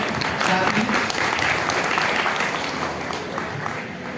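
An audience at a Hindi-language public gathering applauds in a dense, continuous roar of clapping that stays loud throughout, with crowd noise and some speech mixed underneath.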